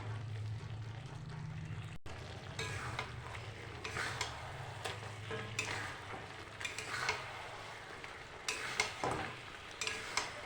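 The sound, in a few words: stirring chicken cooking in a pan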